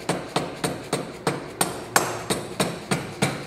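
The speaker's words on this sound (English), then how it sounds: "need to get some type of mallet, give it a couple taps, mostly on this side" A mallet tapping on the engine of a Vespa S 150 scooter during a Malossi kit install, about eleven sharp, evenly spaced knocks in steady rhythm, close and loud, with no speech.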